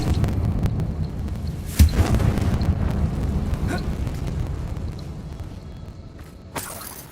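A Confringo spell explodes in Hogwarts Legacy inside a closed mine resembling a tomb, with a sharp crack and rumble over a steady game ambience, followed later by a second bright burst near the end.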